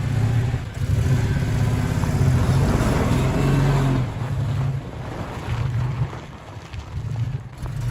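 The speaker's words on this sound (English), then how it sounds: "Four-wheel drive burnout." A four-wheel drive vehicle does a burnout, its engine roaring in a loud sustained drone with tire noise, easing off near the end, outdoors with wind noise.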